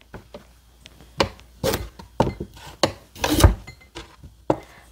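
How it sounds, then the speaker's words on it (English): Carrots are chopped finely with a knife on a board, giving irregular close thuds and scraping cuts, some in quick clusters, fairly loud with no voices. "Just going to move my parsley and garlic out of the way and chop up my carrots"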